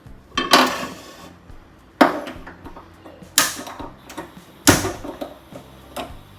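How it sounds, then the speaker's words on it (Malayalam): A metal kadai pan and other cookware are set down on a gas stove in a home kitchen, with several sharp clanks and knocks spaced a second or two apart, close and alone. "നമുക്കിത് ഇങ്ങോട്ട് മാറ്റി വെക്കാം, വേറൊരു കടായി വെക്കാം."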